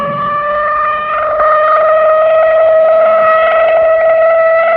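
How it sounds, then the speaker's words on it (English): A civil defense siren sounding in a practice drill, a steady loud wailing tone that holds for several seconds, rising slightly in pitch, with no voices. "But tomorrow, this siren may mean the real thing."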